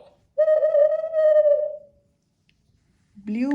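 An owl gives a single clear, sustained hooting call lasting over a second, close and alone against silence, and another call begins just at the end.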